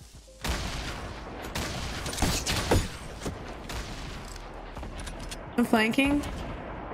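Gunfire and explosive blasts from a Fortnite Battle Royale match, sounding as a dense run of bursts and booms with sharp peaks near the middle and end, while a player talks over the game audio.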